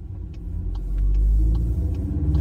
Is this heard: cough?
no